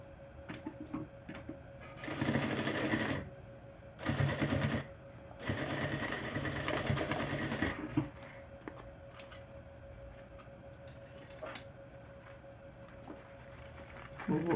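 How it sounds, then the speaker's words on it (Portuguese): A domestic sewing machine runs in bursts as it stitches a seam along both sides of fabric binding for a handbag. The motor whirs steadily for a few seconds at a time, with quiet pauses and handling noises between the runs. "Vou passar a costura de um lado e do outro com um pé de máquina"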